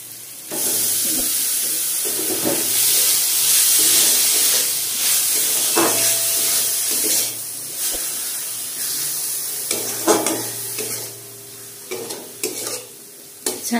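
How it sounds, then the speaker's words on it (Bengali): Chhana being stir-fried with spices in a pan, with a steady close sizzle and hiss running throughout and repeated scraping, stirring clatters of the spatula against the pan. "ছানাটাকে কিছুক্ষণ মশলার সাথে ভালো করে কষিয়ে নেব।"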